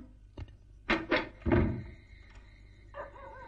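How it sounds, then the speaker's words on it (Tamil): Knocking on a door: four dull, heavy thuds in an uneven cluster over about a second, followed by a quiet stretch with a faint steady tone in the background. "கதவு தட்டின சத்தம் உனக்கும் கேட்டுச்சு இல்ல?"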